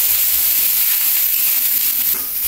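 Garlic and ginger dropped into hot oil with a little water crackle and sizzle loudly, a dense, continuous close-up frying hiss with no voices.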